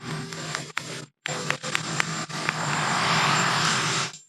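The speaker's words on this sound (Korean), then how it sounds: "헬리콥터 소음으로 방해가 있었지만" Helicopter noise at an outdoor press gaggle with the US president, a steady broadband engine and rotor roar that cuts out briefly, then returns and swells louder before ending abruptly, with a few faint clicks near the start.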